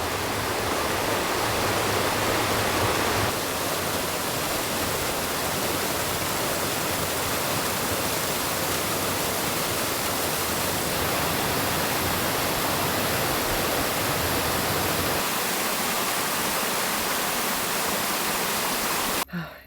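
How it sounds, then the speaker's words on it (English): Water rushes steadily along a stream, a dense, unbroken roar close by that holds an even loudness throughout, with no voices over it. "savor the sounds of the water that's just flowing all about"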